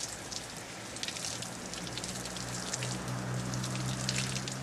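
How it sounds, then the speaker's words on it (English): Soft nylon-tipped water brush scrubbing outdoor solar panels, a steady wet swishing hiss with faint patter, fairly quiet and continuous, with a low hum running underneath. "With the water coming out of the middle and these soft nylon tips, just a back and forth movement cleans the solar panels right up"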